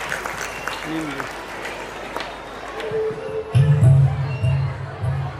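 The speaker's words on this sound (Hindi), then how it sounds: "तो एक बार जोरदार तालियों से हमारे बच्चों का मंच पर स्वागत कीजिए।" Audience at a school annual function applauding as seventh-class children come on stage, scattered clapping and crowd murmur under an announcer's voice, with loud bursts of music-like tones cutting in toward the end.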